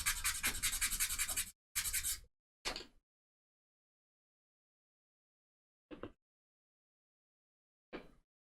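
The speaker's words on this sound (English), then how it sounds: "And then just take it over to the sandpaper," Wooden model ship part rubbed back and forth on sandpaper, a few close, scratchy rasping strokes in quick succession, then silence broken by two brief isolated scrapes.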